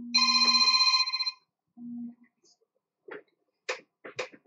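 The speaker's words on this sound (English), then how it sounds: "Oh, we've got a phone call." A telephone rings with a bright, repeated electronic trill, loud and close. A short tone follows, then a few faint clicks and knocks.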